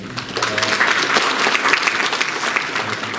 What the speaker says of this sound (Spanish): Un aplauso por el doctor.